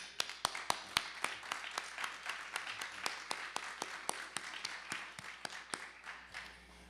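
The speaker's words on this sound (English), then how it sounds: "I just want to applaud you for everything that you've done." A few hands clap in a steady, sharp rhythm at a public event launching a sustainable city plan, the crisp claps repeating evenly throughout at moderate volume.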